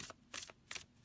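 An oracle deck of Druid plant and animal cards is overhand shuffled close by, giving three quick papery riffling bursts with short pauses between them.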